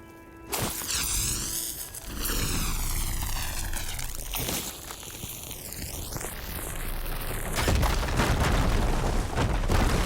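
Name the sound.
fire gleam exploding in video game Horizon Forbidden West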